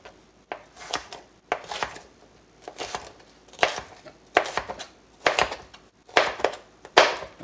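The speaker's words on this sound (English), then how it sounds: "So right now I'm just going to cut these basically in strips." Steady knife chops through pork meat on a cutting board, cutting it into strips; about a dozen crisp, close thuds in a fairly even rhythm, with no talking.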